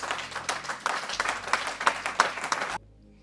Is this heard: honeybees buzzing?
no